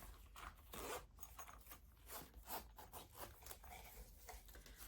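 The zipper on a small compartment of a Dooney & Bourke bag is pulled in several short, scratchy rasping strokes, close and quiet, with no talk.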